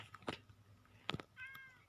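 Cats in the video game Minecraft meow quietly, with two short separate meows about a second apart followed by a brief higher whining tone, heard faintly with no talking.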